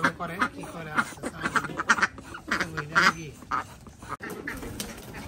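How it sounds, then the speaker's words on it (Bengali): Chinese ducks on a home farm quack nearby in a rapid series of loud, raspy, repeated calls that overlap and pause only briefly before trailing off. "দেখতে পাচ্ছেন কিরকম করতেছে চীন হাঁস"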